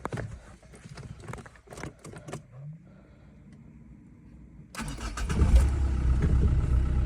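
A used car's engine cranks with a rising whir, catches and roars to life, then settles into a loud, steady idle close by.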